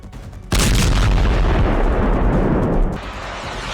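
A sudden loud, deep blast from a drone strike on a building in Dubai bursts in after half a second of quiet, then rumbles on heavily for a few seconds before easing to a lower roar.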